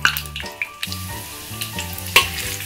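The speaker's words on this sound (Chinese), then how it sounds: "燒紅個鍋。 加蒜頭、姜" Garlic and ginger dropped into a hot wok, crackling and sizzling steadily at close range with a few sharp pops.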